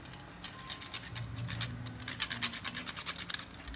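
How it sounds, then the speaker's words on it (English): Whole fresh nutmeg is rubbed against a grater in quick, close rasping strokes that speed up toward the end, over a faint background hum. "Nutmeg we can go kind of scanty on because it takes forever to grate it, and I like fresh nutmeg."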